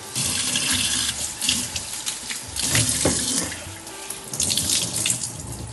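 Tap water pours steadily from a faucet into a sink while dyed black hair is rinsed under it, a continuous close splashing with shifting gurgles and no talk.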